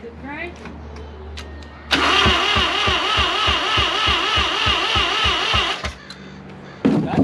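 A 1983 Mazda RX-7 with a 12A rotary engine cranks over on the starter for about four seconds, a loud rhythmic whirring pulse without firing. Talking comes before and after.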